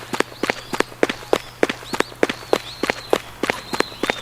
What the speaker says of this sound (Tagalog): Mga tunog ng huni at mga yabag ng paa.